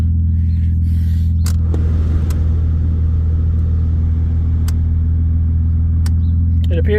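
A 1995 Toyota Camry LE V6 wagon drives along with a steady low engine and road rumble heard from inside the cabin, punctuated by a few faint clicks and knocks.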